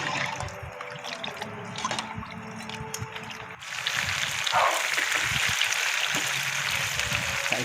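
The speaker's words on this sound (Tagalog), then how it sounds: "Maglalagay na tayo ng maraming tubig para maluto na yung manok at bigas natin." Water poured into a cooking pot for chicken arroz caldo, starting as light trickling and building into a steady, fuller rushing pour that continues to the end.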